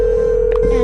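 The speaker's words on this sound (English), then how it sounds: "The phone was ringing" A phone ringing in the video game Chatlinx, heard as a steady electronic ring tone held throughout, loud and close, with a brief faint voice-like sound partway through.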